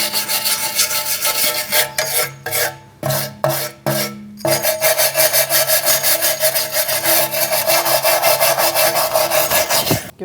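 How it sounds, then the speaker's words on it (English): Rapid back-and-forth scraping of a wire brush on a Mercedes-Benz C300 rear parking brake assembly, loud and close, with a few short pauses before a long steady run of brisk scrubbing. "Now for the rest, I'll use a wire brush."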